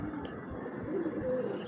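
Pet pigeons coo softly on a rooftop, with low murmuring calls over a steady outdoor background and a few faint chirps.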